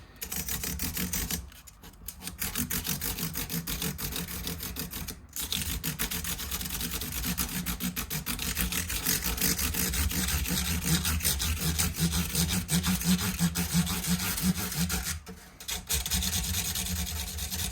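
Stainless steel guitar frets on a Martin Road series acoustic are rubbed with a small 240/320 grit abrasive tube, a close, continuous rasping scrub broken by a couple of brief pauses.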